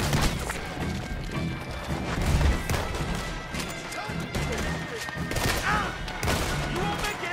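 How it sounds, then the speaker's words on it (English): Shotgun blasts from a sawn-off shotgun in Red Dead Redemption 2 crack through a busy gunfight, with loud repeated booms and crashes layered over dense background gunfire and commotion. "For these guys, I think the sawn-off shotgun."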